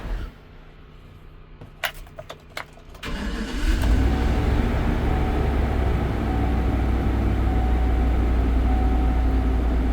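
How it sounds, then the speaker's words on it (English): A few clicks, then the engine of a 2018 GMC Savana 3500 cutaway box truck with 196,550 miles cranks and roars to life, settling into a loud, steady rumbling idle close by. "Let's run this truck."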